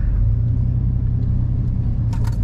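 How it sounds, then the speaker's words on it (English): A fire truck rolls in nearby, a steady low engine rumble with road noise holding constant throughout, no voices over it. "Oh, is this truck coming in here?"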